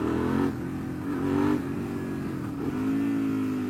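A Suzuki SV650S twin-cylinder motorcycle engine pulls hard, its throbbing note rising steadily through the revs, dipping briefly at gear changes, then climbing again, loud and close throughout.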